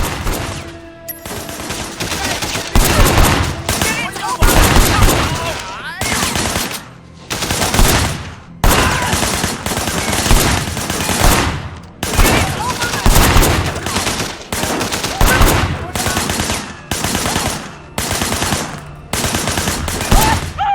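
Gunfire in the video game Sleeping Dogs comes as loud, repeated automatic bursts with short gaps between them, close and dominant throughout.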